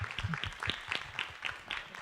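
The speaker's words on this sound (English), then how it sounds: "a nice round of applause for our panelists" Faint, sparse applause from a small audience for panelists at a Roseville community discussion event, scattered soft claps at a distance in a quiet room.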